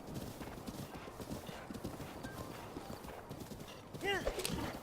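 Horse hooves gallop in the Breath of the Wild video game as a steady, quick clip-clop, with a short whinny near the end and a person talking over it.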